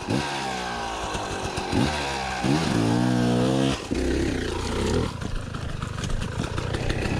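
A KTM 300 dirt bike engine labours on a steep dirt trail, close and loud. It revs up and falls back repeatedly in uneven bursts, with a steady raspy two-stroke drone underneath and no voices.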